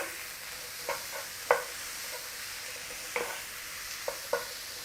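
Onion frying in a pan for beef keema, a steady hiss of sizzling punctuated by several clinking stirs of a utensil against the pan, close and clear with no talk.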